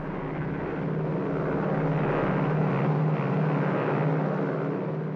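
An airplane taking off at night, a loud steady engine roar and rumble holding for several seconds with no voices over it.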